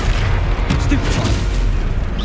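Stupefy spell cast during combat in the Hogwarts Legacy video game, a loud sustained magical burst with boom-like impacts and crackling bursts, continuous and dense over the whole moment.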